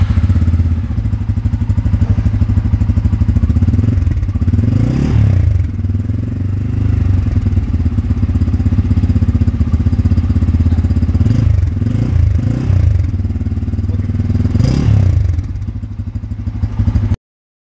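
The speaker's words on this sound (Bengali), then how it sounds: "এবারে হচ্ছে আমরা বাইকের এক্সজস্ট নোটটা একটু শুনবো" A Bajaj Pulsar N250 BS6 motorcycle with an underbelly exhaust idles close by in a steady, throbbing low burble, blipped up in a few short revs before settling back, alone without talk.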